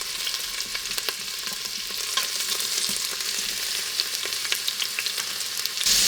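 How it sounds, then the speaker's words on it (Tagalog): Beef caldereta simmering and sizzling in an Instant Pot while a utensil stirs through it, a steady bubbling hiss with scattered scraping clicks, close and alone, until a brief louder rustle at the very end. "Haluin ko lang to para maging equal yung pagkakaluto natin."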